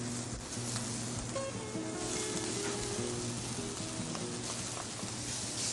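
Chopped dried onions frying in oil in a pan as madımak greens are added, a steady close sizzle running throughout with no talk.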